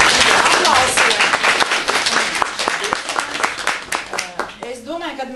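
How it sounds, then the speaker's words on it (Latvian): An audience applauds at a health-day gathering, dense clapping from many hands filling the room, starting loud and thinning toward the end as a voice begins speaking over it. "Un visi ar aplausiem."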